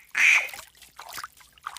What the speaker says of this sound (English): It sounds like a duck.